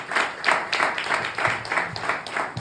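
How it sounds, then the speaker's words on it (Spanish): A church congregation gives a round of applause during a sermon, with fairly faint, rhythmic clapping swelling in regular pulses, heard from a slight distance. "Un fuerte aplauso a la palabra del Señor."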